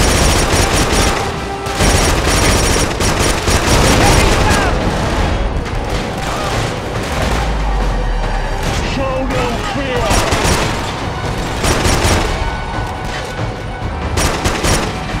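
Dense Killzone 2 firefight with sustained automatic gunfire, rapid bursts and heavy booms filling the whole stretch, loud and continuous, with game voices mixed underneath.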